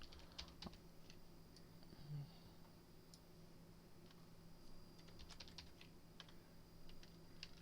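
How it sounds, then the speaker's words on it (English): Fingers tap on a computer keyboard in a quiet room, a faint, irregular run of light clicks and key presses continuing steadily over a low background hum, with no talking. "I'm just typing it."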